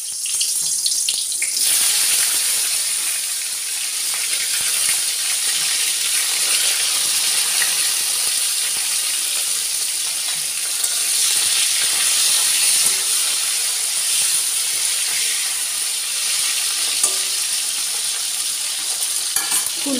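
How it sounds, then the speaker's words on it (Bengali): Cauliflower florets seasoned with salt and turmeric frying in a pan, giving a steady, dense sizzle and hiss that runs unbroken and close for the whole stretch, with faint stirring scrapes and no voices. "এবার আমি ফুলকপিগুলো ভেজে নেব।"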